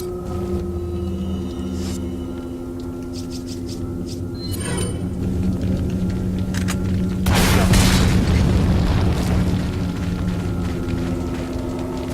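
A rocket launcher blast in Resident Evil 4 on PS4 rolls out as a deep, loud boom that swells midway and lingers as a long rumbling roar, preceded by quieter game noises and faint tonal hums.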